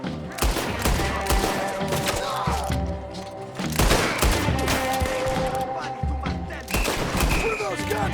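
Gunfire in Red Dead Redemption 2 comes as a loud shootout of repeated shots and volleys, several cracking bursts spread over the stretch with thuds and game sounds between them.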